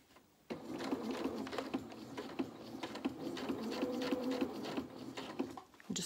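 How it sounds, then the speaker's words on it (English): A domestic sewing machine stitching fabric pinned flat on its bed, running as a steady fast mechanical whirr with rhythmic needle ticks for several seconds, starting and stopping abruptly, close and fairly quiet. "making sure that all of this is just sitting nice and flat against the bed of our sewing machine"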